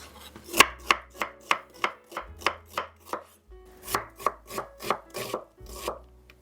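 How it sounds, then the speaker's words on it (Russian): A knife chops an onion into small cubes on a cutting board, about twenty crisp, evenly paced thuds in two bursts separated by a brief pause, close and clear with no talk. "небольшими кубиками режу лук"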